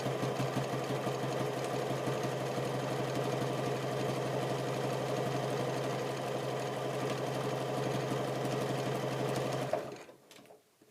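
A sewing machine stitching rounds of fabric over a pillow support runs in a fast, steady mechanical rattle close by, stopping abruptly near the end when the bobbin thread runs out.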